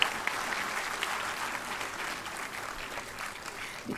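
An audience at a CSIR foundation day celebration claps steadily for quiz and competition award winners, a dense, even patter of many hands that holds at a constant level throughout.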